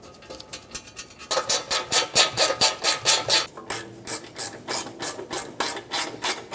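A hand ratchet clicks rapidly and steadily while snugging oil pan bolts on a 2008-2012 Jeep Liberty 4x4, the pawl chattering in quick even bursts, close and loud, with no talking.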